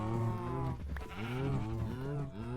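A sheep in the video game Ancient Kingdoms bleats in a few wavering, nasal calls that rise and fall one after another, close and clear, with no talking.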